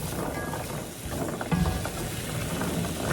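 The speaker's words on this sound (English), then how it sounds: "Give this a stir." Chickpeas being stirred in a dry skillet over medium-low heat, giving a steady scraping, rattling stir with soft clicks throughout, moderately loud with no talking.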